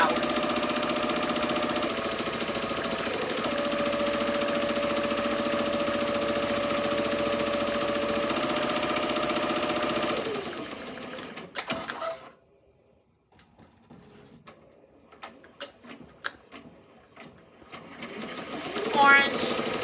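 An embroidery machine stitches orange flowers onto a butterfly appliqué birthday shirt, running with a steady close mechanical whir for about ten seconds before it stops; faint clicks and handling noises follow in near quiet.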